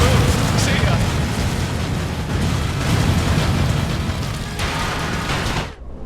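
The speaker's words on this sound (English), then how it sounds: "with the enormous deadly explosion" An enormous explosion in the video game Lollipop Chainsaw roars as a sustained, loud, dense rumble for several seconds before cutting off abruptly.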